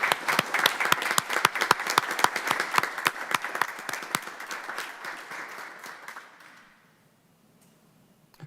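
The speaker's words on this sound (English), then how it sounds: "I think it's maybe worth a round of applause that Chief Dyer could take back to the department" A room at a city council meeting breaks into applause, brisk clapping with sharp individual claps that gradually thins and fades away after about six seconds.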